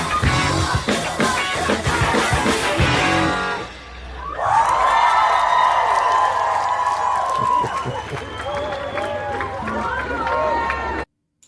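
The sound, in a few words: concert crowd cheering at end of a cover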